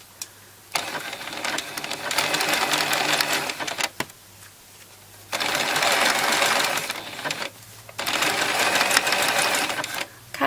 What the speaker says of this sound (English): we're going to sew across here using another zigzag stitch